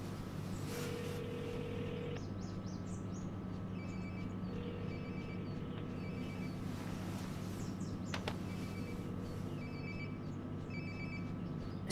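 A mobile phone rings nearby in the video game Life is Strange: Before the Storm. The short, repeating bursts are faint and muffled, over a low steady room hum.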